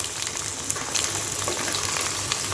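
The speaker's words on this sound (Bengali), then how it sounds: "এখন আবার সব কিছু তেলের মধ্যে সুন্দর করে কষাই নিই।" Mango and eggplant with turmeric powder are stir-fried together in oil for a pickle, a dense close sizzle broken by brief scraping stirs.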